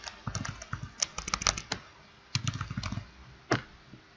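Computer keyboard typing, two bursts of quick irregular key clicks separated by a short pause, then a single sharper keystroke, close and crisp.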